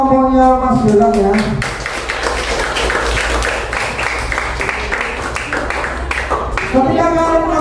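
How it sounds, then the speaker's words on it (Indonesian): A class of students applauding a group, several seconds of dense scattered clapping between stretches of a teacher's talk. "Ya, beri tepuk tangan untuk kelompoknya Mas Galang ya."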